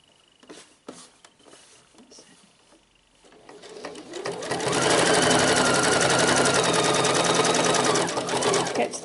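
A sewing machine stitches an elastic summer dress, starting with scattered light taps and quiet handling, then running fast and steady in a loud, close, continuous whir for the second half.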